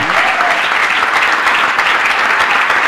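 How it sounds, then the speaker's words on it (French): A church congregation claps loudly and continuously, a dense steady applause from a large crowd filling the room, with faint voices mixed in. "Nous allons lui rendre honneur, gloire et louange en acclamant le nom de Jésus-Christ"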